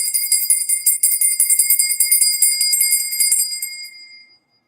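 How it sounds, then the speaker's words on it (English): Small bell rung in rapid, steady repeated strikes for about four seconds, bright and clear, then stopping with no talk. "Y'all need the bell?"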